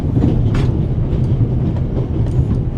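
Train carriage rolling along rails in The Raven video game, a steady loud low rumble with faint rhythmic clacks running throughout, no voices.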